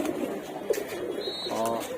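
Pigeons in a loft of about 150 flying birds coo softly and continuously, a low burbling murmur close by with a brief higher chirp partway through.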